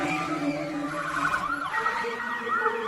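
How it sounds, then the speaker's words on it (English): An ambulance siren wails in a continuous, wavering tone through a few seconds of busy background noise, moderately loud and with no speech over it. "The ambulance rushed her to the hospital"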